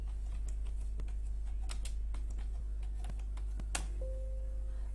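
Keys clacking on a computer keyboard as a level name is typed in Revit building software: a quick run of light, crisp taps over a steady low hum, no voices.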